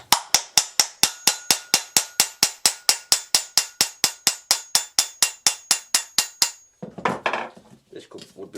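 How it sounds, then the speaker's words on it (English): A hammer taps a Ford Fiesta 1.0 EcoBoost turbo part in a fast, even run of about thirty sharp metallic strikes, close and loud, followed by a few scattered clunks and handling noises. "tack it with a hammer"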